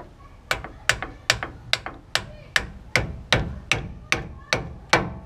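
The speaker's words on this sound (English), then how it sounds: "Hammer a little bit." A hammer strikes a steering part on a first-generation Toyota Tundra, about a dozen sharp metallic blows in a steady, fairly quick rhythm, loud and close with no talking.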